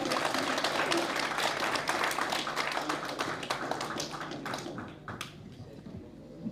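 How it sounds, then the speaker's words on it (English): An audience at the Maurice O'Keeffe Festival launch night in 2026 gives a round of applause, dense clapping from a crowd that holds strong, then thins out and fades over the last couple of seconds. "Big round of applause."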